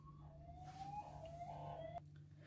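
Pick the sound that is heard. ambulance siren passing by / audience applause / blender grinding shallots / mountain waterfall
ambulance siren passing by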